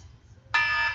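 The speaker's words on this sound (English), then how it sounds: "That's the wrap it up alarm, sorry." A harsh electronic alarm buzzer suddenly switches on midway and holds a loud, steady, bright tone to the end, close and alone after a quiet start.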